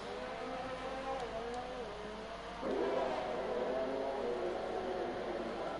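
An F1 2019 racing car in a video game holds a steady engine whine that climbs in pitch on a long straight of the Mexico circuit. It jumps to a louder, brighter tone partway through, and nobody speaks.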